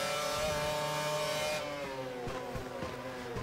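An F1 race car in F1 2012 accelerates hard, its high engine note climbing and dropping through quick gear shifts, loud and close with no voices.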